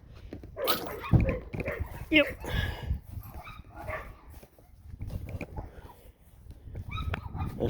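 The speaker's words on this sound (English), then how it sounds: "I still yet to see what the dogs are barking at." Dogs bark in short bursts at middle distance around a pickup truck bed being fitted out, with a voice speaking briefly over them.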